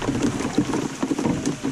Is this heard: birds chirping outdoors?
no